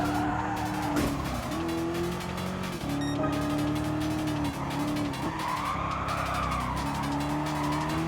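A 717-horsepower Dodge Charger SRT Hellcat in the Gran Turismo Sport game revs hard with a loud, continuous engine roar, rising and falling through gear changes, with tyre squeal and skidding layered on top.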